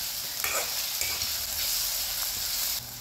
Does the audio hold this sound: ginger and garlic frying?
yes